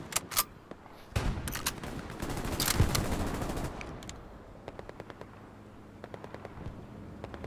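Machine gun fire from a half-track gunner in the World War II shooter Hell Let Loose: sharp bursts early, then a dense, sustained rattle of mixed gunfire in the middle, trailing into scattered distant shots.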